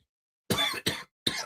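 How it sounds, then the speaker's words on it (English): A person coughs close into a microphone: three sharp, rough coughs in quick succession after a moment of silence. "if I'm coughing in the microphone, it ain't because I'm rude"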